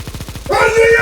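Negev machine gun in CS: Condition Zero fires a rapid, loud, steady burst of close shots, and a sustained tonal wailing sound rises over the final half of the burst.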